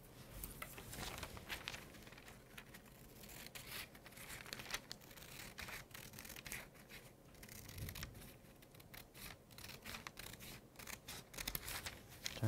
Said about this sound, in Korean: 가위로 잘라볼게요.